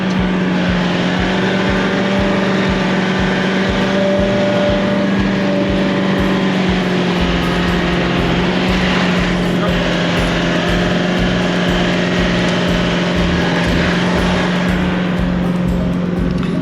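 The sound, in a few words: safari vehicle driving through riverbed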